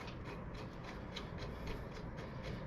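Fork bolts being threaded in by hand on a 2012 Harley-Davidson Sportster, a faint, steady metallic rubbing and ratcheting with soft repeated clicks, close but quiet, no voices.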